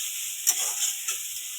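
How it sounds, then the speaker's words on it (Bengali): Onions and garlic frying in oil for Bengali chickpea curry, a steady bright sizzle with a couple of brief stirring scrapes and pops, close and moderately quiet. "পেঁয়াজটা লাল লাল হবে ভাজা করে"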